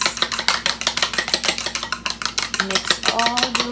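A fork whisks eggs in a bowl with quick, steady rhythmic clicking and scraping, close and fairly loud, with a faint tonal hum underneath and no talking.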